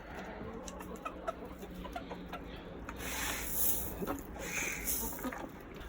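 A backyard hen with an injured leg clucking softly amid rustling and scratching, fairly close and steady, with a louder stretch in the middle and a person talking faintly now and then.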